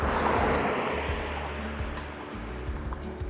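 Rushing water near the Peggy Bridge in Northumberland, a broad continuous hiss that stays steady and fairly close, with low rumbling underneath and no voices.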